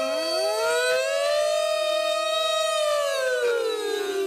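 A voice imitates an air-raid siren to describe loud snoring: one sustained wailing tone that rises, dips slightly and swells again, loud and close with no other talk.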